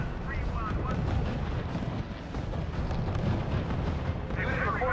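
Heavy gunfire and artillery rumble continuously in the strategy game RUSE, a dense low booming wash under faint radio-style voices.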